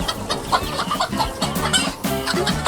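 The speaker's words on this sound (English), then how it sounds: "Listen to the sound they're making. It's like a little cluck, cluck, cluck, cluck" Several chickens cluck close by in quick, overlapping bursts, busy and fairly loud, with no talking.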